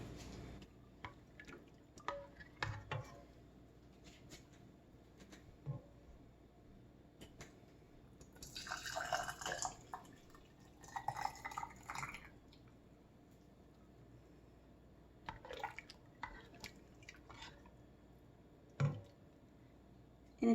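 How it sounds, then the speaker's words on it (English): Thick sweet heat sauce being spooned into glass canning jars, soft wet drips and plops arriving in scattered bursts, with a busier stretch of pouring and clinking midway, fairly faint and close with no talking. "Now we're going to fill each jar."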